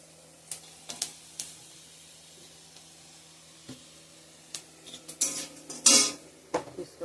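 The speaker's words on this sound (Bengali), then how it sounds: "ফোড়ন দিয়ে দিছি পেঁয়াজ রসুন শুকনো লঙ্কা তেজপাতা" Onion, garlic, dried chilli and bay leaf go into hot oil for tempering, with a faint sizzle behind sporadic clinks and scrapes of a utensil against the pan and louder clatters toward the end.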